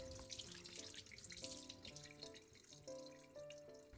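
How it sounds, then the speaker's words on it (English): Water runs from a tap in a kitchen sink while fish scales, blood and innards are rinsed out, a faint, steady splashing flow with small shifting tones. "Then wash out the scales, blood and innards with the water."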